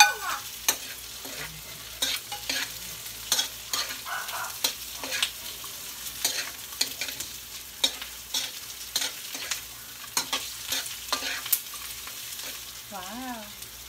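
Pork for humba sizzles in a hot pan while being stirred, a steady frying crackle punctuated by repeated scraping stir strokes, close and fairly loud with no talking.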